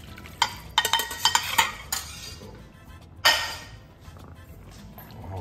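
A fish croquette mixture is gently beaten in a bowl, giving soft scraping strokes and a run of light clinks against the bowl, irregular and close, then fading into quiet.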